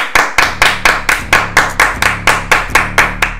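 Steady group clapping at a lively pace during a casual Spanish-language question-and-answer session, about a dozen sharp claps in a row, near and loud, with no talking over them.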